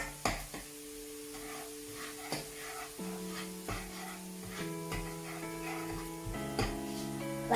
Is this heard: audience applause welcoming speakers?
no